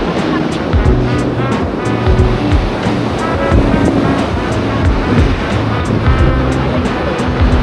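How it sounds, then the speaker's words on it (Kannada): Ocean surf on Candolim Beach in Goa rolls in as a loud, continuous roar with repeated wave crashes close by, while voices talk over it. "ಆಲ್ಮೋಸ್ಟು ಅಲೆ ಅಲ್ಲಿಂದ ಹಿಡಿದ್ಬಿಟ್ಟು ನೋಡಿ ಇಲ್ಲಿವರೆಗೂ ಬರುತ್ತೆ ಒಂದೊಂದು ಟೈಮು"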